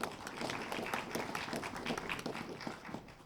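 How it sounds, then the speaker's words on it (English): An audience claps warmly for the legislators at a county forum, a dense patter of many hands at moderate distance that holds steady and then fades slightly toward the end. "Please help me give a warm round of applause to our representatives"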